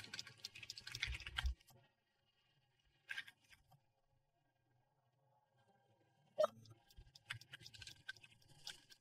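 Quick bursts of computer keyboard typing during a party word game, clattering in short clusters with long quiet gaps between, fairly close and moderately loud, no talking.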